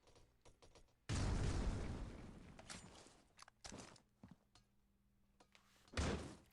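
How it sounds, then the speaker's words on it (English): A flashbang grenade detonates in the mobile shooter Critical Ops during a tournament match: a loud, sudden burst that decays over about two seconds, followed by scattered thuds and a second sharp burst near the end. "Flashbang coming in."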